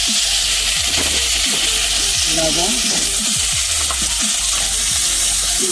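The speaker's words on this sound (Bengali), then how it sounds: "আলুটা ভালো করে ভেজে নিতে হবে" Potatoes fry with turmeric and cumin in a pan for a sole fish curry, a loud, dense sizzle with repeated scraping stirs and light clinks of the spoon close by.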